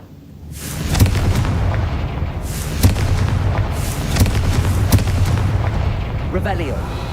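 Confringo blasting spell explosions in Hogwarts Legacy, a steady rumble of repeated fiery blasts with sharp bangs about once a second, loud and close over a constant low roar.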